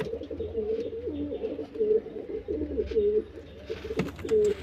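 Several domestic pigeons coo close by during vaccination, a rhythmic run of low rolling calls repeating every second or so, with a brief clatter near the end.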